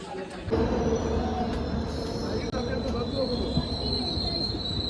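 A passenger train near Murudeshwar rolls along with a steady rumble and clatter of wheels, a thin metallic squeal whining on top throughout.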